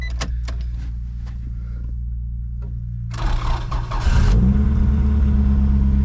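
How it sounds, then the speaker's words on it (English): A car engine with an exhaust leak idles rough and ticking, then revs up into a loud, sputtering, rumbling drone that holds steady. "Exhaust leak."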